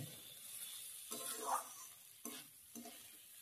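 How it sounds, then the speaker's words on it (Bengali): Washed rice being fried with onion and garlic for Bengali masoor dal khichuri, a quiet steady sizzle broken by a few soft scraping stirs of the spoon against the pan. "সেই জন্যই আমি চালটাকে প্রথমে 2 থেকে 3 মিনিট ভালো করে ভেজে নিলাম।"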